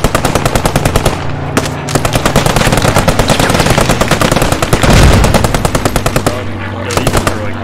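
An M1919A6 machine gun in the video game Post Scriptum lays down suppressive fire in long, loud, close bursts of rapid, evenly spaced shots, with only a brief pause in the stream.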